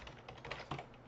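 Brief burst of computer keyboard typing, soft and close, a few quick keystrokes running together with no voice.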